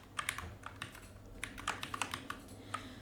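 Quiet, fairly rapid key clicks come from a computer keyboard as someone codes JavaScript, irregular taps in short bursts, close and soft with no talking.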